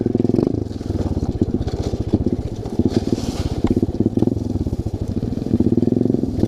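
A motorcycle engine revs and sputters continuously over a rough dirt trail, with rattling and clatter from the bumpy ride, close and loud throughout.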